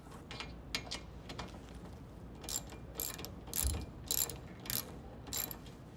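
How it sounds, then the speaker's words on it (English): A socket ratchet removes a 13mm bolt from the sport bar at the back of a Jeep Wrangler JKU, its pawl clicking in several short bursts of quick ticks, close and fairly quiet. "Look for this bolt right here and remove it with a 13mm socket."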